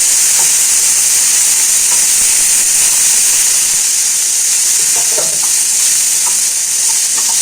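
Potatoes sautéing in a pan after tempering, for a Tamil-style potato and pea stir-fry: a loud, steady sizzle with a constant broadband hiss and occasional stirring clicks throughout, with no talking.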